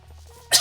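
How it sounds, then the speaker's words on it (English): A single short, close cough bursts out at the very end, after a quiet half-second of low background hum. "Cough."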